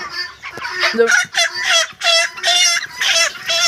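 Broiler chickens on a poultry farm cluck and squawk nearby in rapid, overlapping bursts, loud and busy with short gaps between calls.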